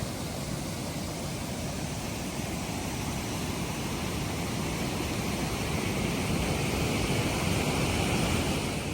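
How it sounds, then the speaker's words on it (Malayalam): A loud, unbroken roar of rushing, falling water at Shoolam waterfall fills the whole clip, steady and dense with no talking. "ഇതാട്ട ശൂലം വെള്ളച്ചാട്ടം"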